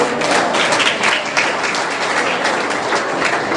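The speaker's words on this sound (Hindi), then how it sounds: "आप एक बार ताली को कंजूसी कर रहे हैं भाई।" Audience at a voter awareness program at a college in Madhepura applauds steadily, a dense wash of many hands clapping throughout, fairly loud with no talk over it.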